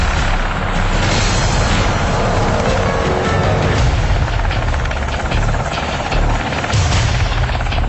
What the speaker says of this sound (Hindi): पाकिस्तान से लगती अफगानिस्तान की सीमा से 4 अमेरिकी हेलीकॉप्टर बेहद खामोशी से उड़ान भर गए।